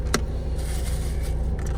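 A nearby car idles and shifts as it manoeuvres in a parking lot, with a low steady engine rumble and a few brief jangling clicks, no talk.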